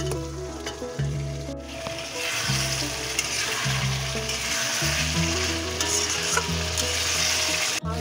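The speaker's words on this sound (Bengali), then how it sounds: "এবারে আমি ভাজা যে চিকেনটা ছিল সেটা এবার আমি দিয়ে দেবো" Fried chicken pieces go into a pan during home cooking of chicken tayari, with a continuous close sizzle of frying and repeated scraping stir strokes, and no voices.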